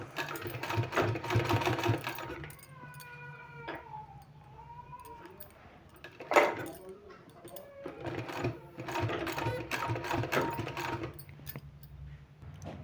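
A sewing machine stitches a sleeve design in clear bursts of running stitches, pausing between runs with softer handling noise in the gaps, close and fairly loud.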